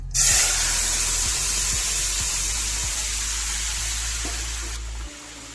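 Shing fish curry is poured into hot oil with whole cumin and erupts into a loud, sudden sizzle that hisses on steadily and fades slightly over several seconds, with a few faint clinks and no talk.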